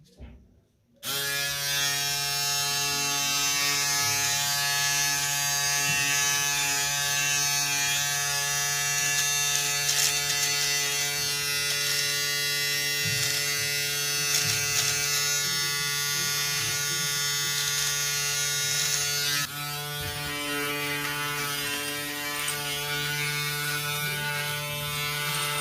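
A steady buzzing Panasonic ES-RT37 electric shaver trimmer runs continuously at close range, removing hair, a constant whining drone that shifts slightly in tone near the end.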